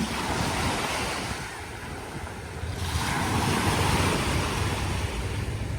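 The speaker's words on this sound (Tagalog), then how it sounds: "Grabe tong na to, yung alon talaga." Waves roll and crash at Manila Bay under gusting wind, a continuous loud wash of surf that dips briefly and then swells again, with no voices.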